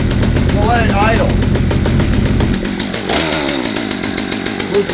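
A Poulan P3416/P3314 chainsaw engine idling outdoors after a carburetor rebuild, loud buzzing two-stroke chatter nearby that settles to a lower, steadier idle partway through, with a voice briefly heard.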